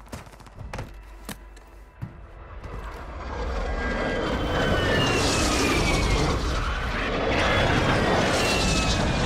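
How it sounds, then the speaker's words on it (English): A jet airstrike sweeps overhead in the Call of Duty MWII video game. A few sharp thuds come first, then a roaring jet rush builds to a loud, sustained whoosh that fills the second half. "Friendly airstrike in the AO."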